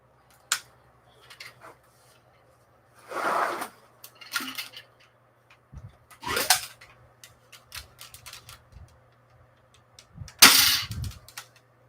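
A foam dart blaster fires darts downrange into a dart catcher, making several sharp, close pops and snaps with short gaps between them and a quiet background.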